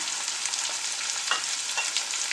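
Chicken pieces fry in an open pan of coconut oil with a constant close, bubbly sizzle and small crackles, and no one talks.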